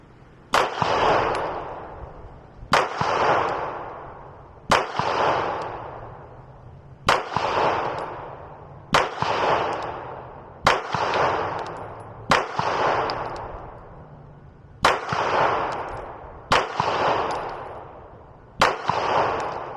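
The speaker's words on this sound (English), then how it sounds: "we're going to shoot at that down zero right there and just see if this pistol is actually zeroed" A Taran Tactical JW4 Pit Viper pistol fires ten rounds at a target from 7 yards, each sharp, loud crack ringing out alone at an even pace of roughly two seconds, with no talk between shots.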